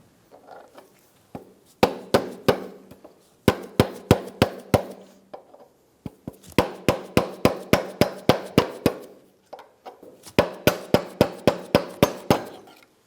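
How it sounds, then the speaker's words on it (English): Sharp metallic hammer taps ring out in quick bursts of several strikes each, separated by short pauses, close and loud, as a driveshaft is driven onto the front differential flange of a 2003-2007 Infiniti G35. "I used a pry bar and a hammer to help the drive shaft onto the front flange"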